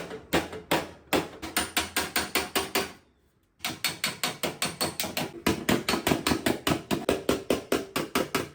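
Rapid, rhythmic metallic hammer blows on a VW Bus wheel well's sheet metal, worked with hammer and dolly, close and loud, with a brief pause before the steady pounding resumes.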